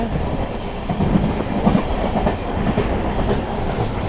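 The Secunderabad–Repalle Express rumbles steadily along the tracks past Nallapadu Junction, a continuous rolling roar with faint rhythmic clatter from the wheels, heard from on board.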